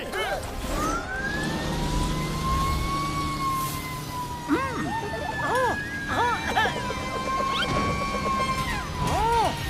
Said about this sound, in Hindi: चलो पतलू, फायर ब्रिगेड से किंग कॉन्ग की मदद करनी होगी।